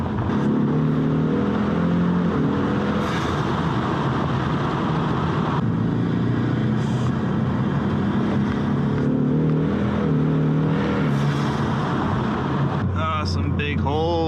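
A 2020 Ford Mustang EcoBoost HPP revs hard toward its redline during spirited driving, its engine note climbing and stepping through gear changes, heard continuously from inside the car with wind noise throughout.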